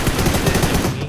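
Automatic gunfire in the mobile video game PUBG Mobile, a loud, dense, rapid burst of shots filling the whole moment, with no talking.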